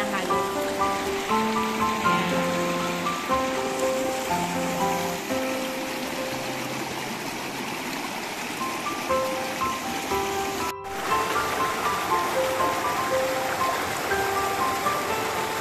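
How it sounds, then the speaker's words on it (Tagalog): Namo wild yam root soaking in water and being stirred by hand: a continuous sloshing, splashing wash of water with musical tones playing over it. "habang nakababad po sa tubig, tignan mo, hinahalo po namin yan."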